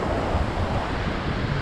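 Ocean surf on a beach at Oceanside, California, a continuous loud wash of breaking waves mixed with gusty wind buffeting the microphone, with no voices.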